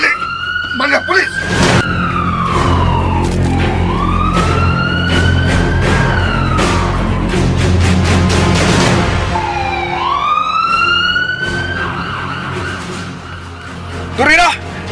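A police car siren wails in repeated rising and falling sweeps, loud and close, over a rumbling engine and scuffling commotion, with shouting voices in a radio drama scene.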